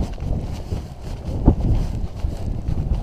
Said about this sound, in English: Oh, awfully windy.